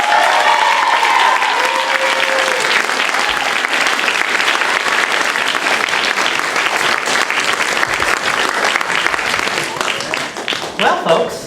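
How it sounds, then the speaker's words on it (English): An audience at a community theater volunteer gala breaks into loud, sustained applause, a dense wash of clapping that fills the room nearly the whole time and thins out near the end, with a voice briefly heard at the start. "a round of applause for Shamisha"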